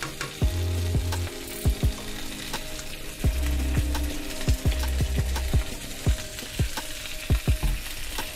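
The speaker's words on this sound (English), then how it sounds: "allow the oxtail to brown on all sides" Oxtail pieces browning in a hot pot give a steady, loud sizzle and crackle, punctuated by repeated sharp pops and clinks of a utensil against the pot throughout, with no talk.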